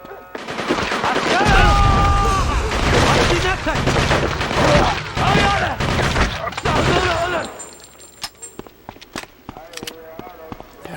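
Rapid bursts of gunfire and booming shrapnel explosions in the video game Cold Winter, dense and loud for several seconds before thinning into scattered sharp shots and clicks.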